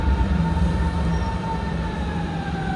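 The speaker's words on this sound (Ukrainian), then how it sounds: "скоро буде наш цей трамвайчик чи поїзд" A tram or train pulls into a stop in wintry Berlin, its steady rumble close and continuous, with a tonal whine and faint wheel squeal riding over the low roar and no talking.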